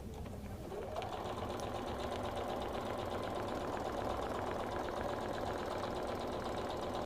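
A QuiltMotion X automated quilting system driving a sewing machine, starting up after a second and then stitching in a fast, steady mechanical whir, close and continuous with no talking.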